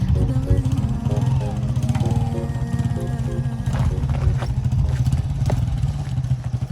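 A motorcycle engine runs with a steady low rumble while the bike is parked on a roadside near the Kurundu Oya falls in Sri Lanka, with some clatter and faint voices over it.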